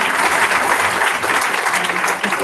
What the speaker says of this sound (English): let's give my panel a round of applause